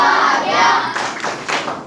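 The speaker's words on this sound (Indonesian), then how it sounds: "Tepuk semangat." Students doing a rhythmic spirit clap in a school orientation session, a few loud hand claps and thumps in a patterned sequence, close and punchy.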